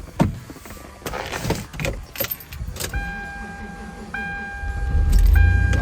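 A Toyota 4Runner is started in freezing cold: keys jangle and the door clunks, then the engine cranks and catches into a steady idle with a thin whine from the power steering pump.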